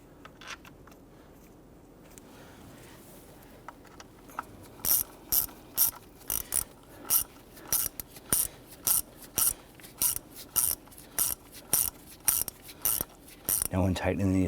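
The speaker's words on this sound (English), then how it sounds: "Now when tightening these down, you just want the screws to bottom out." Ratchet tightening fuel rail screws on a Jeep Grand Cherokee 3.6L V6, a long run of close, sharp rhythmic clicks in short regular bursts, ending in a faster flurry.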